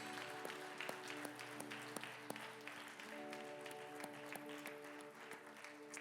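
A congregation at a bilingual Sunday church service claps in praise, a soft, steady applause set over a sustained organ or keyboard chord with distinct individual claps.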